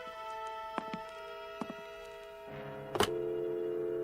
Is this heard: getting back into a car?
no